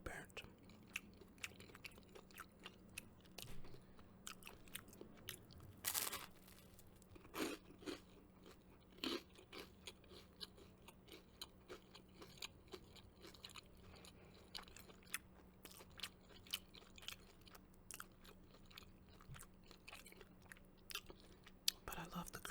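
Crispy, slightly burnt broccoli and tofu crunch between the teeth in close, quiet bites, with irregular crackles and soft chewing throughout and one louder snap near the middle.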